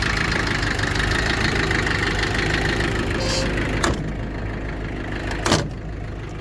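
Mitsubishi MX35 mini excavator engine running at a steady, close idle with a knocking diesel clatter, broken by a couple of brief sharp noises toward the end.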